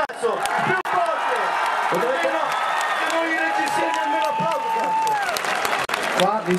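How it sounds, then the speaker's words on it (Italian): Applause and crowd noise from an audience at a rock concert in Lorica, Italy, with a loud voice shouting over the clapping and cheering throughout. "Questo è un applauso di merda. Più forte, cazzo! Più forte!"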